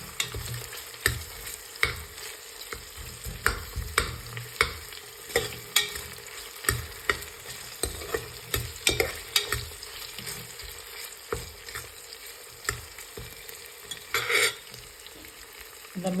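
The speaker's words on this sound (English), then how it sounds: "then goes the chopped onions. Just keep mixing it for some time here." Chopped onions frying in a pan for vegetable rice bath, stirred with a spoon that knocks and scrapes against the pan in a rough steady rhythm over a low sizzle, with no talking.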